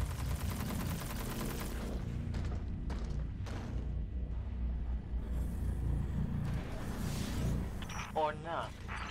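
Heavy hand cannon fire in the video game Destiny 2, sharp repeated shots over a low rumbling engine-like drone, with a person talking through parts of it.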